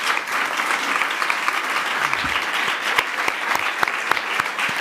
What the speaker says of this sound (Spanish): A las dos ponentes, a Marco, un fuerte aplauso a los tres.